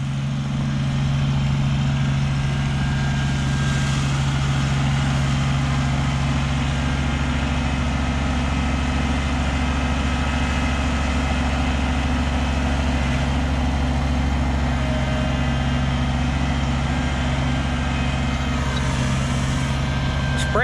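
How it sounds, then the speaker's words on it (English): Tractor engine droning steadily while spreading gravel with a box blade, a constant low hum with strong tonal rumble held at an even level, close and continuous for the whole stretch. "Spreading gravel with the tractor is one of them things you just gotta be patient with"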